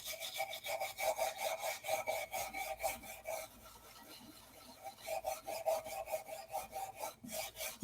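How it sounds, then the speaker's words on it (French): A stiff brush dipped in denatured alcohol scrubs wood furniture with knots and nail holes, in rapid rhythmic back-and-forth strokes, a pause in the middle, then more strokes, close and fairly quiet. "Donc ici, je trempe un petit peu ma brosse assez rusée dans l'alcool fin."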